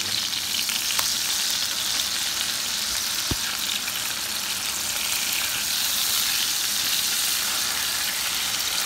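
Beef patties of 80-20 ground beef sizzle on a griddle for a patty melt, a steady close hiss of frying fat throughout with one brief clink partway and no talking.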